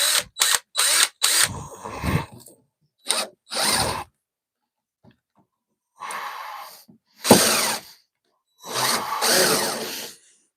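A power drill backs screws out of rotten shed floorboards, giving a series of short, loud whirring bursts with gaps between them, close by.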